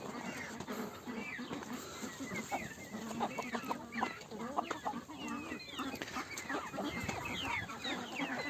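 Chickens cluck and call continuously on a goose, duck and chicken farm, many birds close by in a busy, dense chorus with a rooster-like call now and then.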